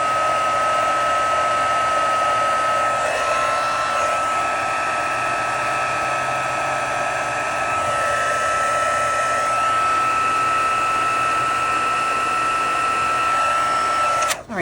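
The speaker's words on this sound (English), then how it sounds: "So let me heat set these." Heat tool blowing hot air to set freshly stamped ink on a sympathy card, a loud steady whirring blast running nearly unbroken from start to finish before cutting off at the end.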